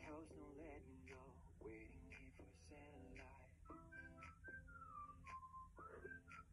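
A clear, melodic whistled tune with sliding notes plays over soft background music, fairly quiet and steady throughout.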